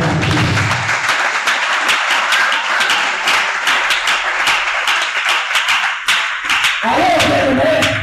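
A church congregation at a Christian seminar claps and acclaims Jesus, with dense, steady applause close by and raised voices mixed through it for several seconds.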